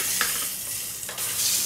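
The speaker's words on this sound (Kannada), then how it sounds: "ಎಣ್ಣೆಗೆ ಹಾಕಿ ಸ್ವಲ್ಪ ಫ್ರೈ ಮಾಡಿ." Ground masala paste, blended with green chillies, sizzles and fries in hot oil in a pan for jeera rice, with a steady hiss and a few stirring scrapes, close and fairly loud.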